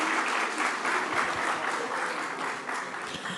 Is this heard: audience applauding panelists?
yes